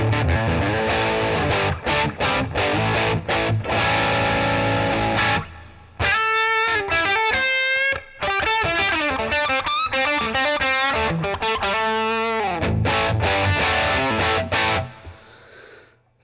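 Overdriven electric guitar played through boost and overdrive pedals, chugging chords in the opening and closing sections around a brighter run of picked single-note lines, loud and close with no talk.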